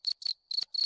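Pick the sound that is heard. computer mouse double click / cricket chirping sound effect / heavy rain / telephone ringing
cricket chirping sound effect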